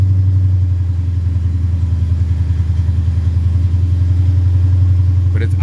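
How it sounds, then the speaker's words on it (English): A car engine idles loudly and close by, its low rumble pulsing with an uneven, lumpy rhythm. "But it's idling kind of not right."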